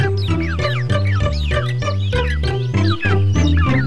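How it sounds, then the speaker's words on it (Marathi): Young chicks cheeping inside the mother hen's coop, with hen clucking mixed in; dense, continuous chirps repeat in quick bursts close by, with no talk. "मला वाटतंय पिल्लं ओरडतायत"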